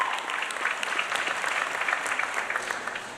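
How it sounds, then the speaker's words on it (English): Steady, dense applause from a large crowd at the John J. Duggan Academy 2025 graduation ceremony, a continuous wash of many hands clapping at even loudness throughout. "Let's give one more round of applause."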